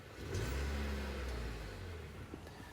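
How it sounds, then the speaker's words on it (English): A 2023 Renault Austral's petrol engine idles at night with a steady, fairly quiet low hum that holds evenly throughout. "And you can hear the petrol engine, it's not too loud."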